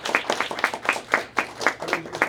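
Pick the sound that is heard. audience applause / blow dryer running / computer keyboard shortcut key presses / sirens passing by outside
audience applause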